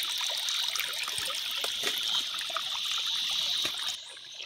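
A small spring trickles and dribbles steadily, a close, gentle patter of water that runs alone before cutting off near the end.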